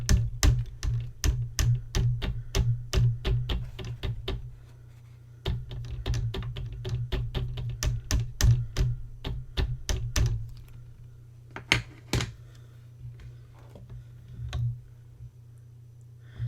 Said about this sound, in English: now I'm going to take my Versamark and I'm going to ink this up